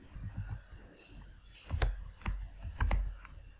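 Keys clack on a computer keyboard as a terminal command is typed, with an irregular run of soft taps followed by several louder, sharper strikes, close up and with no talking.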